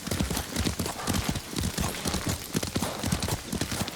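Horse hooves clip-clop at a steady trot in Ghost of Tsushima, a game set in feudal Japan, with a close, continuous rhythmic pounding of hooves on the ground and a faint voice beneath.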